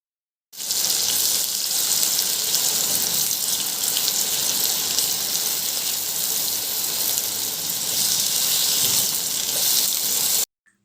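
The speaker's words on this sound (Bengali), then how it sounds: "মাছগুলো ভেজে ওই একই তেলে আলুগুলো ভেজে নেবো" Sliced potatoes fry in hot oil left from frying fish, a loud, steady, close hiss and sizzle that runs without pause for about ten seconds, then stops abruptly.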